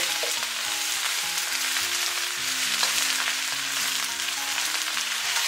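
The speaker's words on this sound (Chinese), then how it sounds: "然后我们再下入菜叶， 继续开大火给它翻炒均匀。" Napa cabbage leaves stir-fried over high heat in a wok, a steady, loud, dense sizzle with occasional scraping and tossing clatters throughout, no voices.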